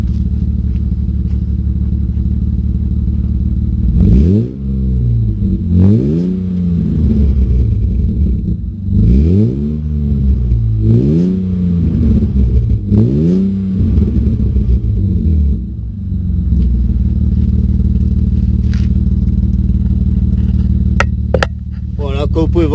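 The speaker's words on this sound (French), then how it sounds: "on va essayer d'accélérer un peu, comme ça vous allez entendre un petit peu le bruit" BMW E36 320i with a stainless universal muffler fitted, idling steadily then revved in several quick repeated rises and falls, loud and close, before settling back to a steady idle.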